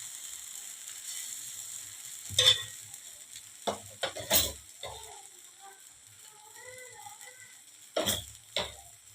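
Rava dosa cooking on a hot griddle as coconut oil goes on, with soft sizzling and several sharp scraping, clattering strokes of a spatula, spaced irregularly and fairly close.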